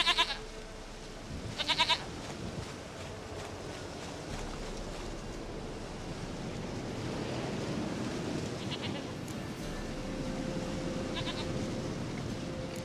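Short goat bleats from The Witcher 3 ring out at moderate distance, a couple of quick cries at the start and a few fainter ones later, over a steady wind-like ambient hiss.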